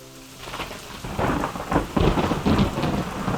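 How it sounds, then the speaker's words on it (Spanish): A fierce thunderstorm pours heavy rain in a steady hiss while deep thunder rumbles roll in and build, growing louder and fuller toward the end, with no voices. "el rayo alumbró en el cielo y cayó una feroz tormenta"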